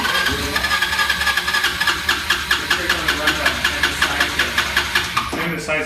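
Honda Helix scooter, low mileage and original, cranks and starts with a rapid, even chugging pulse that runs steadily for several seconds before cutting off near the end, close and fairly loud.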